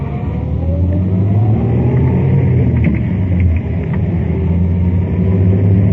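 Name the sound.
car accelerating after making a U-turn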